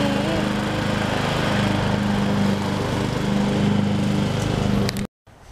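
A lawn mower engine drones steadily while cutting grass, loud and close with a constant buzzing roar that holds for several seconds before cutting off abruptly.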